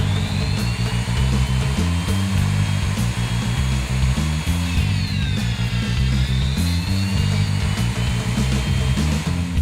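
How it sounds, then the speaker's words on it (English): A Hougen magnetic drill taps a hole in metal in low gear with coolant, giving a loud, steady motor drone with a rhythmic low rumble and a rising and falling whine throughout, with no talk. "Whether you are tapping through holes or blind holes, your Hougen mag drill will make the job quick and easy."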